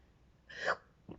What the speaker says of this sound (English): Excuse me, hiccup.